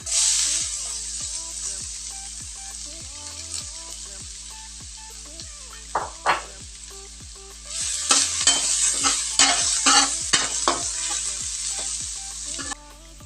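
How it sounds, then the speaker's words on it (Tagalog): Garlic fries in hot cooking oil, a steady bright sizzle running throughout, with stirring clatters and scraping in a pan that grow busier and louder toward the end. "Maglagay lang tayo ng mantika. Next natin ilagay bawang."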